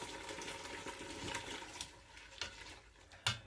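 Water pours into a Ninja 15-in-1 multicooker holding leftover beef and onions on sear saute, a steady close splashing fill that tails off toward the end with a couple of small knocks.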